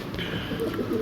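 Racer pigeons at a bird sale give a brief, soft burst of cooing, close by over a low background murmur.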